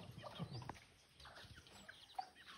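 Chicks give a few faint, scattered peeps over quiet background noise, with soft clucking-like sounds in a short, low-level stretch.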